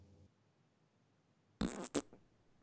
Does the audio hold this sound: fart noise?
yes